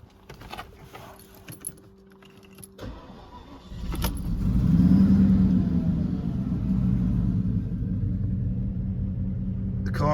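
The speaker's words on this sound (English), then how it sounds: "Right, I'll just turn the key so you can get an idea of what it sounds like." Keys jangle and click in a Porsche Cayenne Gemballa GT750 Aero 3 biturbo before the engine cranks and fires. It then settles into a loud, deep, steady rumbling idle, close by.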